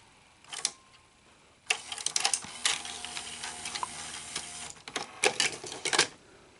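A cassette deck under repair, its capstan motor faulty, clunks and whirs through a mechanical eject cycle: a quick click, then a sustained rattling mechanism for about three seconds, and a few more sharp clicks and snaps at the end. The sounds are close and fairly quiet.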